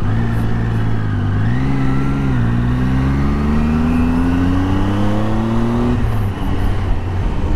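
A Tiger motorcycle engine revs steadily on a Mumbai to Goa ride, its loud droning note rising in pitch, holding, then climbing again before dropping off near the end, with no talk over it.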